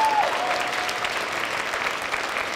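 An audience claps steadily for a graduating student at a high school spring band concert, a brief, even burst of applause at moderate loudness.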